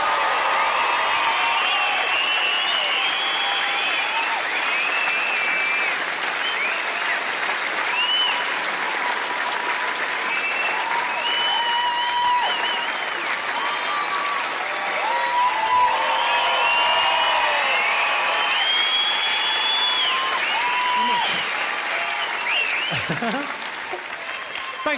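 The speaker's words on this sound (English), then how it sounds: "That simple act of applauding, it's everything you work for as a performer" A large theatre audience in Glasgow applauds at the end of a stand-up comedy show, a sustained wash of clapping with scattered cheers and whistles that holds loud and steady throughout before tapering at the very end.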